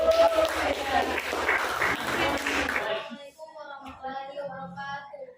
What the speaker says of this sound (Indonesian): Beri aplaus dulu kelompok 2